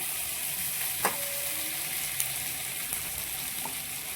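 Chopped tomato fries in a hot pan for Shahi paneer, giving a steady close sizzle with a few faint clinks of stirring, no talking.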